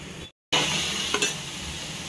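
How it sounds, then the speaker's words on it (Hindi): Onion roasting in oil in a hot kadhai for a chole masala gives a brief steady sizzle, broken by a short gap and a light scrape of stirring. "इथे मी कढई तापत ठेवली होती. यामध्येच आपण मसाला भाजून घेऊया. सुरुवातीला मी कांदा भाजून घेते."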